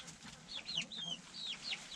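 Young chicks about 45 days old in a chicken coop, waiting to be fed, give off repeated high, thin peeping calls over soft low clucking from the flock, steady and fairly close with no talking.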